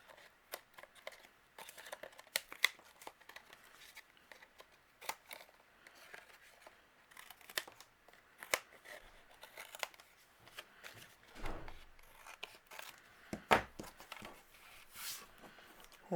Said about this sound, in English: I'm going to go ahead and trim off the overhanging area